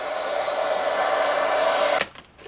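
A hair dryer blows steadily and close on a wood slab ornament for about two seconds, then switches off abruptly with a soft click and rattle.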